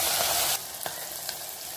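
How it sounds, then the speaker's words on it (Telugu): Onions and green chilies fry in oil with a bright, continuous sizzle that drops in loudness after the first moment, with a couple of light stirring clicks and no talking. "ఉల్లిపాయలు, పచ్చిమిరపకాయలు సగం గోలిపోయాయి కదా"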